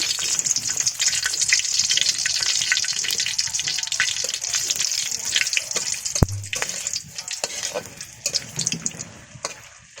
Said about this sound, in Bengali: তেলটা গরম হয়ে গেছে, এবার তেলের উপরে দিয়ে দিব এই যে গোটা গরম মশলা আর 2টা গোটা শুকনা মরিচ নিছি